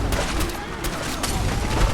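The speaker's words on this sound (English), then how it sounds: "Everyone else is shooting from the platform." Dense, rapid gunfire from a Fallout 4 battle rattles on without pause, loud and close, forming a continuous fusillade of overlapping shots.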